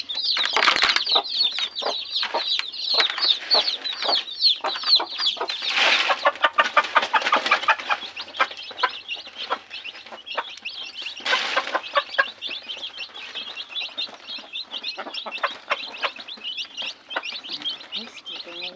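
Chickens, including fighting roosters, cluck and chirp busily at close range on a farm, a dense run of short calls with occasional wing flaps, with no talking.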